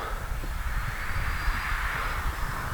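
An Avios Albatros RC airplane makes a low, slow pass with its landing flaps down, its motor giving a steady, fairly close buzzing hum over outdoor wind noise.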